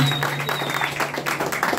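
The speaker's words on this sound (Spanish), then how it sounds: "Fuerte el aplauso" Audience applause at a mariachi serenade for a quinceañera: a short, steady burst of clapping from a small crowd, fairly close, with a faint sustained tone underneath.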